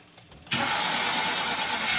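Car engine that cranks for a long time on the starter before it catches, then runs with a loud, steady, close roar after a brief softer stretch.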